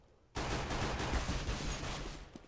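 Pistol gunfire in a CS:GO pro match breaks in after a brief quiet moment as a dense, loud, continuous burst of rapid shots that lasts to the end, with no voices over it.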